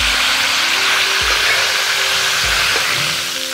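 Pork ribs with scallion and ginger stir-frying in a hot wok, a steady loud sizzle throughout with a few soft scraping stirs and low clunks, close and without talk.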